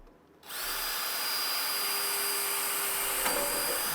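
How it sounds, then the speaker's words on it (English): A power drill whirs up suddenly and runs at a steady high pitch, close and loud, with a brief sharp change near the end as the bit cuts through a bandsaw's metal housing. "You may be wondering why I'm drilling a hole into my bandsaw."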